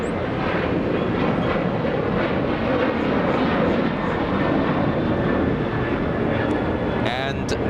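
A Southwest Airlines Boeing 737-800 bound for Chicago Midway departs LAX with a loud, steady broadband jet roar that fills the whole stretch, and a voice briefly speaks over it near the end.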